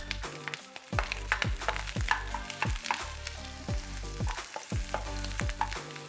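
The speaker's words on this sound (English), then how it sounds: "we're gonna throw our oil in here, and then we're gonna add our onions" Onions frying in hot oil in a pan give a bright, continuous sizzle up close, with stirring and some clattering over a low background hum, steady and moderately loud throughout with no talking.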